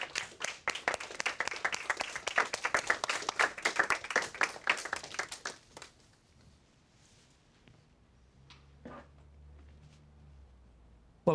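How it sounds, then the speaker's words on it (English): Audience applause welcoming a guest speaker onto a stage, dense clapping for about six seconds before fading into a quiet room with faint footsteps and small shuffles. "we're going to give him a big round of applause"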